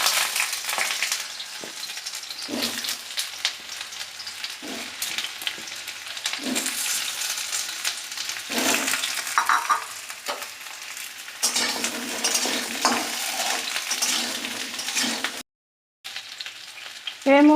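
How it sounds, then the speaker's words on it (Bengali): Ash gourd pieces fry in a little hot oil in a wok, giving a steady close sizzle broken by repeated scraping stirs and brief clatters, with no talking. "আমি চাল কুমড়োটা ভেজে নেব অল্প তেল দিয়ে"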